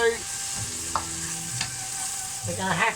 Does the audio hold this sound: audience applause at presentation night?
no